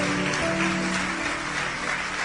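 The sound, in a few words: church congregation applauding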